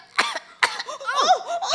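Several harsh, wet coughs close by, in separate bursts, followed by a voice giving drawn-out strained, wheezing sounds.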